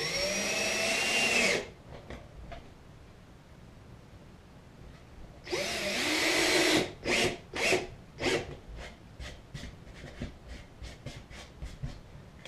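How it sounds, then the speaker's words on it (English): A power drill driving screws into the banking of a model track, two long whirring runs followed by a series of short, sharp bursts as the screw is seated, close and fairly quiet. "I'm screwing in the last"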